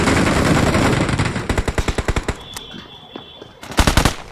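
Rapid bursts of automatic gunfire from the battle royale game BGMI, several tight volleys of close, loud shots with short gaps between them, a few isolated single shots, and a final heavy burst near the end.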